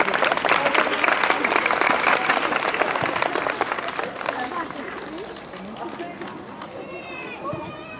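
Dense crowd applause at the awards ceremony of the Jūrmala children's sports festival "Jautrie starti 2016": loud, steady clapping from many hands that gradually thins and fades over several seconds.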